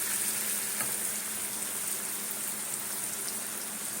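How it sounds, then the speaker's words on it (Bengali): Mango pieces fry with Kashmiri chilli powder for a sweet-sour pickle, giving a continuous, fairly loud hissing sizzle that stays steady throughout, with no voices. "আমটাকে সুন্দর করে ভেজে নেবো"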